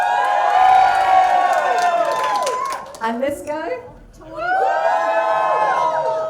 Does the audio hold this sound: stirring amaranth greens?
no